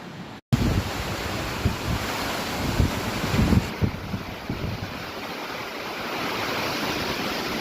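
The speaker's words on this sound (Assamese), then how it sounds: "চাচোন কেনেকুৱা বতাহ বৰষুণ" Strong wind and rain gusting outside a door held slightly open on a stormy day, a loud steady roar of wind noise with rushing, surf-like gusts and buffeting against the microphone, and no voices.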